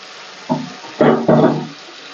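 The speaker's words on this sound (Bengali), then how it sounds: "জল দিয়ে বাটিটাকে একটু ধুয়ে দেবো" Water runs from a tap in three short bursts while a bowl is rinsed in the kitchen during fish cooking.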